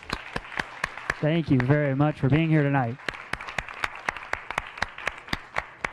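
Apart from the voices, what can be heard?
audience applause for the speaker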